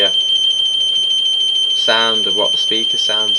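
A BS 80 Super Keyswitch burglar alarm control panel sounds a PA alarm through its internal speaker: a loud, continuous high-pitched electronic tone. Someone talks over it partway through.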